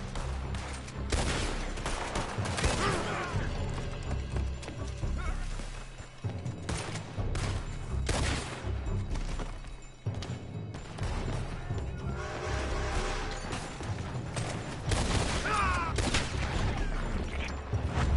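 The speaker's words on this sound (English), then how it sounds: "They're shooting from that building." Heavy gunfire in Red Dead Redemption as enemies shoot from a building, with dense repeated shots, crashes and impacts continuing loudly throughout and a voice occasionally heard.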